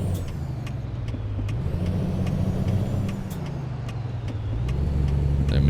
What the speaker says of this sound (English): After these cars go, we're home free.